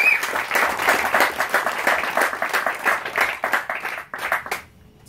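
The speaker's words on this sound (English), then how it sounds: "We should give them a round of applause." At an overall series awards ceremony for a racing club, a room of people gives a round of applause, brisk clapping that swells then tapers off and stops near the end.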